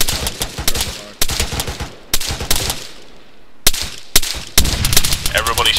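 Bursts of rifle and automatic gunfire crack repeatedly in the Arma 3 video game, loud and close, in rapid clusters separated by short gaps as other weapons echo in the background.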